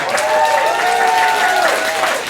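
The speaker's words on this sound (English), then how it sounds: "Let's give one more round of applause for Presto Paul" Audience at a magic show applauding a magician, a brief burst of clapping with tonal voices or cheering mixed in over it.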